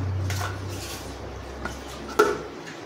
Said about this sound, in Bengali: এবার আমি ঢাকা দিয়ে দেবো, এঁচড়টাও আমি ঢাকা দিয়ে দিচ্ছি